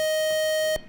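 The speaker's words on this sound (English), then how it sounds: "Buzzer got you there, no time to answer." A single steady electronic quiz show buzzer tone sounds loud and flat for under a second, then cuts off abruptly.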